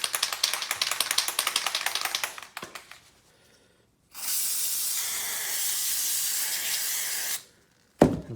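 Oil sprayed onto a Honda CRF70F air filter: a rapid run of short spray bursts, then, after a brief gap, a long, steady, close hiss lasting about three seconds before cutting off.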